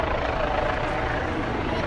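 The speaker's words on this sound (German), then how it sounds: "Der ganze Himmel ist voller Helikopter." Steady, loud rotor and engine roar of police helicopters overhead during G20 protests in Hamburg, continuous throughout with a constant broadband drone.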